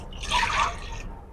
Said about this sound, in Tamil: தண்ணியை ஊத்திடுவோம்.